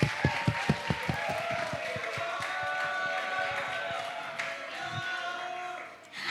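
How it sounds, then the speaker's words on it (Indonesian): A school campus expo audience in Surabaya applauds a presenter, beginning with a few distinct rhythmic claps nearby that blend into a softer, sustained crowd clapping with faint background murmur. "Teman-teman boleh dong kasih tepuk tangan yang meriah buat Kak Dia"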